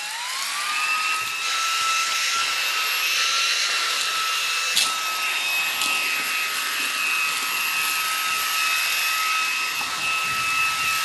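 A Xiaomi Mi Vacuum Cleaner Mini runs on turbo mode, a loud, steady high-pitched motor whine that spins up at the start and then holds with airy rushing suction, close and continuous, with no voices.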